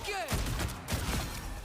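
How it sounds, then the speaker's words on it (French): A shotgun firing two shells in the video game Marvel Rivals sounds as a sudden burst of sharp blasts, followed by more bursts and a busy action-game background. "elle a un shotgun qui fait 2 balles"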